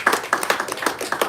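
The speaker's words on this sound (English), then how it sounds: "I think she deserves a round of applause." A small audience at a book reading claps after a speaker, a sparse pattern of individual hand claps in quick irregular bursts, close and short-lived with no talking.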